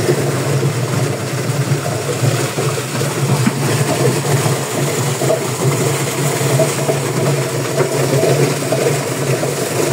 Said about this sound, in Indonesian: Ini mesin penggeraknya mesin cuci ya.